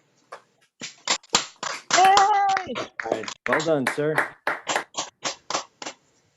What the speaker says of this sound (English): I think it's worthy of a Zoom applause.